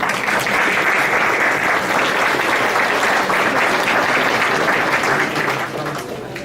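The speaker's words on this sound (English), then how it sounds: "I think it deserves another round of applause." Steady, dense audience applause fills a multicultural fundraiser event hall, loud and sustained throughout before tapering slightly at the end.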